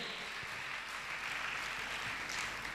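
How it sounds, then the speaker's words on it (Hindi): Applause from a gathered audience at a Jain religious discourse session with Muni Shri Praman Sagar Ji Maharaj, a continuous hiss-like patter of many hands, fairly soft and distant, steady from start to finish. "जोरदार ताली बजाकर इनका सम्मान करें।"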